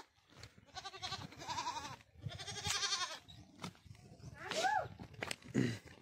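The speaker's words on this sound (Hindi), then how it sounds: "देखो मेरी बकरी मेरे को याद कर रही है" A goat in a hill village on a mountain evening bleats a few times, wavering calls fairly close by, with soft outdoor noise and scattered movement between them.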